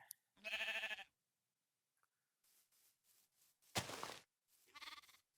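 A baby sheep in Minecraft bleats in short, clear calls: one long bleat, then several quick faint ones, a loud bleat and a final brief cry, with silence between them.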